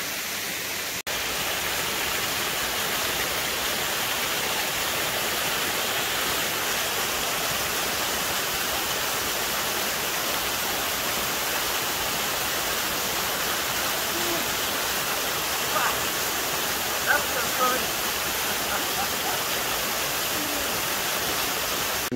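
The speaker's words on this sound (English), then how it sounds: "you can see the falls from here" Steady rushing of a waterfall along the Appalachian Trail heard from a moderate distance, a continuous even hiss of falling water with no talking.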